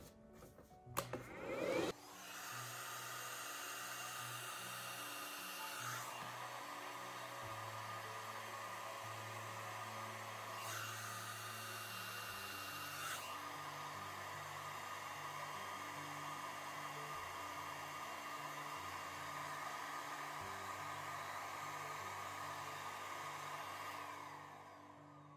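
A hair dryer blows heat onto a blonde wig, starting with a click and then droning steadily for over twenty seconds, its pitch and airflow shifting a few times as the setting or angle changes; no one speaks.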